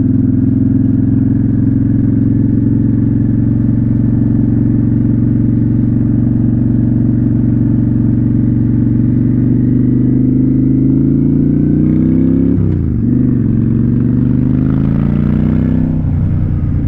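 A motorcycle creeps through a slow-speed maneuver, its engine a steady low idle-like drone that holds even before briefly rising and dipping as the throttle is worked near the end.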